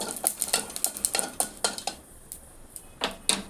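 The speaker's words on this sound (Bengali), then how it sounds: "পাঁচ ফোড়ন জিরে মেশানো ফোড়ন দিয়ে নাড়াচাড়া করে নেব" Spices being stirred in a hot pan with a little oil, panch phoron mixed with cumin, making a string of close metallic scrapes and taps of a spoon against the pan, irregular and fairly sharp, alone without talk.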